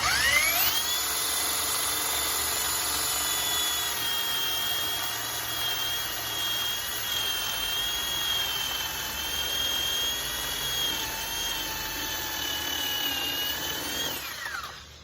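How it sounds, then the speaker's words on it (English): A power drill whines at a high, steady pitch for about fourteen seconds while drilling a hole in scrap wood, spinning up at the start and winding down at the end. "I'm just gonna drill a hole"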